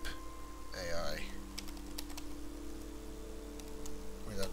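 Keys clack on a computer keyboard as a command is typed into the Starmade space-building game: sparse, sharp taps scattered over a few seconds beneath a steady hum, with a voice speaking at the start.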